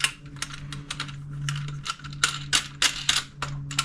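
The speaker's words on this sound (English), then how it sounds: "Just tighten up the bolts." Quick, uneven bursts of clicking ratchet or threaded-hardware sounds come from bolts and wing nuts being tightened by hand on a kayak cart for an Old Town PDL 106, close up over a low steady hum.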